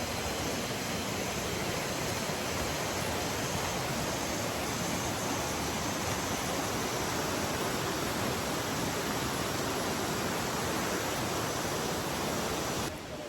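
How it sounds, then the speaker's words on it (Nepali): A river stream rushes along the trail to Okhreni Waterfall near Sundarijal, Nepal, producing a constant broad hiss of flowing water that stays even and close throughout, with no voices. "खोला एकदमै साउन्ड सुन्न सक्नुहुन्छ"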